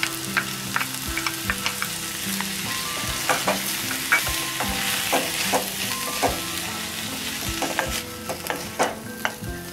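Organic snake gourd with toor dal fries and sizzles in a pan for a Chettinad poriyal, with a steady hiss and repeated scraping clinks of a spatula stirring throughout, close and clear.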